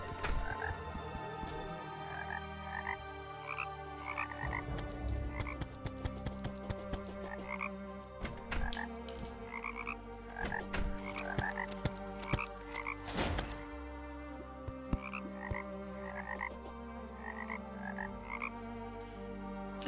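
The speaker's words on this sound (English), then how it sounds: "never knew how much I loved the sound of frogs" A chorus of many frogs croaks at a beach hut in the Terraria video game, overlapping chirps and ribbits popping rhythmically over layered game music and ambient tones, moderately quiet with no talking.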